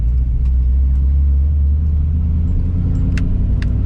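A 1999 Camaro with an LS engine swap cruises on the road at night, its deep, steady engine rumble close and loud throughout, with a few faint high clicks near the end.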